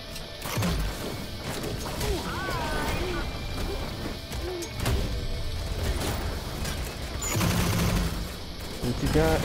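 Gunfire from a weapon in the video game Spacelords, rapid crashing bursts of shots mixed with other game effects and clattering impacts, fairly loud and continuing for most of the stretch.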